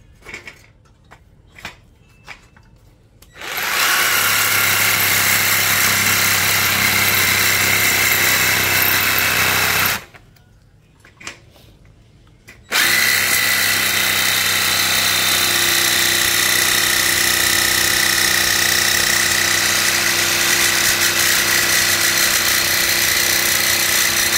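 A Ronix 8608 cordless jigsaw cuts in two long, loud, close bursts of harsh rapid buzzing, separated by a short pause, with a few light clicks and taps before the first cut.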